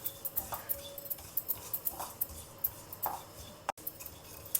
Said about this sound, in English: In a few minutes you will find it starts spluttering like this